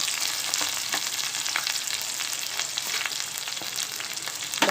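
Onions, curry leaves and green chillies fry in oil in a kadai for an egg drop curry, giving a steady, close, dense sizzle that runs without pause and without any talking.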